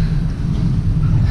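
Cold wind gusts steadily through a tunnel-like mountain pass on the NH7 road in Uttarakhand, a loud continuous low rumble buffeting the microphone, with no voices.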